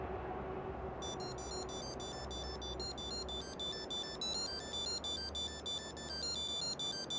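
A phone ringtone plays a repeating electronic melody of high beeping tones, steady and fairly loud against a low background hum, with no voices.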